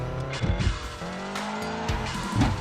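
A tuned car drifting through a corner in Assoluto Racing, tires squealing in bursts over a steady engine drone, close and fairly loud.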